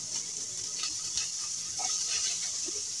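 Chopped onions sizzle in leftover oil from fried rohu fish, a steady, close hiss of frying for a lau and rui fish curry, with faint stirring clicks and no voices.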